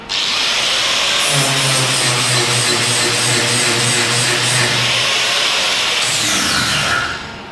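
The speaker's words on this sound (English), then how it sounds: "I just left a little bit there so that the flapper disc will get it." An angle grinder fitted with a flapper disc grinds metal on a wrecked vehicle being repaired. The loud, steady whine carries on for about six seconds, close by, and winds down near the end.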